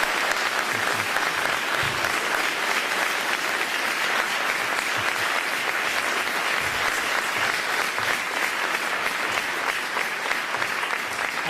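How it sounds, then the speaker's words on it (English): Steady, dense audience applause fills a hall at a congressional debate for the 50th District of California, clapping continuously at an even loudness throughout. "I would like the audience to give them a nice round of applause"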